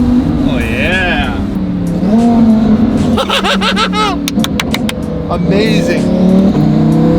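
A rebuilt twin-turbo Lamborghini blips and downshifts with sharp, rising and falling engine revs and crackles, loud and nearby, while people talk and react excitedly over it.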